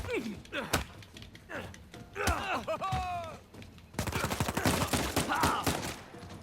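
Gunfire crackles in the video game Uncharted 4: scattered shots and short bursts, then a dense rapid volley of machine gun fire, with voices chattering over the action.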